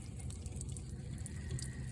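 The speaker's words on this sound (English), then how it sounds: "And it's pouring straight out of that hose." Water gushes steadily from the sunroof drain hose of a 2009 Toyota Camry, a continuous close splashing flow with no pauses.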